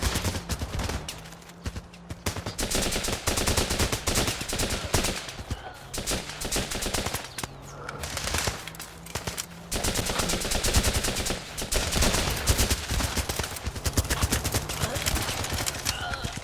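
Kalashnikov and FAMAS rifles fire in the video game Running with Rifles: dense, rapid automatic bursts and single shots crackle almost without pause, with faint voices mixed underneath.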